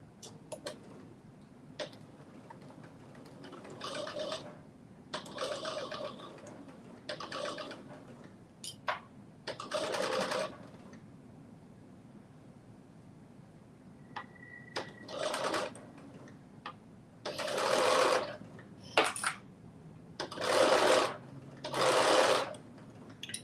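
A sewing machine runs in short bursts while stitching a spiked tail for a Simplicity 9844 pattern, with fast rattling stitches separated by pauses and soft handling sounds, close and fairly loud.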